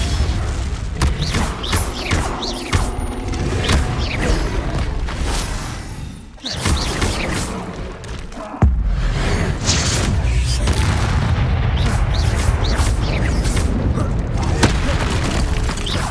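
Confringo blasting spells go off in Hogwarts Legacy amid game combat, a loud sequence of heavy booms and thuds with rumbling, mechanical clatter and a sudden cut, while a voice speaks at times.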